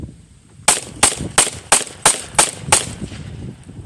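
A handgun fires seven sharp, loud shots in a quick, even sequence about a third of a second apart, close by, with no talking.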